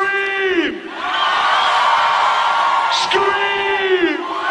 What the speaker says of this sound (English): And now all the ladies, just the ladies, I want you to scream!